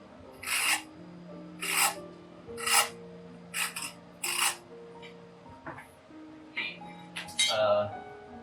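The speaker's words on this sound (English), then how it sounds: "So I'll just scratch really good line there." Repeated rasping scrapes from scoring a marking line on a granite block for a small surface plate, five or six distinct strokes in a steady rhythm, close and clear over a low background hum.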